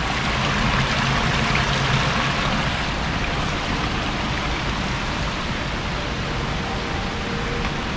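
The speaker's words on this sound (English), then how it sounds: "Mini waterfalls." Small indoor waterfalls splashing inside the Gaylord Opryland Hotel in Nashville, a dense, steady rush of falling water that fills the space evenly throughout.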